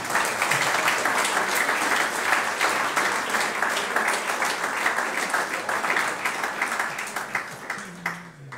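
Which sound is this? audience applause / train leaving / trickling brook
audience applause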